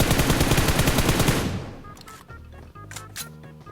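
Rapid bursts of automatic gunfire in a shooting video game, loud and dense for about a second and a half, then trailing off into scattered softer shots and clicks.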